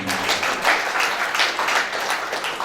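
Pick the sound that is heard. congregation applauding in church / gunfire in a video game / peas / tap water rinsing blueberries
congregation applauding in church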